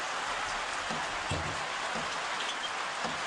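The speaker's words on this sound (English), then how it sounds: "wait for this rain to stop" Rain pours during an early-morning safari drive in the African bush, a steady, dense hiss that continues without a break and has no voices over it.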